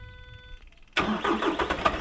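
A vehicle engine cranks and catches in the snow, then runs loud and steady close by after a short quiet pause.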